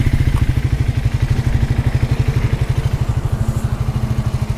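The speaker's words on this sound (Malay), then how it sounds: "Jom kita start tengok ini. Triumph Scrambler 400X bunyi dia macam mana." A 2025 Triumph Scrambler 400X motorcycle in showroom condition idles after starting, its single-cylinder engine thumping in a steady rapid rhythm close by, with a mechanical clatter over the low throb and no talking.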